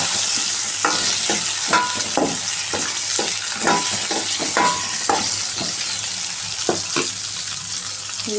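Coriander and cashews fry in a pan with a constant bright sizzle, while a spoon scrapes and stirs in repeated short strokes spaced about every half second, close and without talk.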